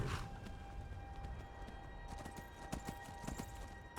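Horse hooves clip-clop at a steady walking rhythm in the modded video game Skyrim, close and continuous under a light in-game ambience, with no talking.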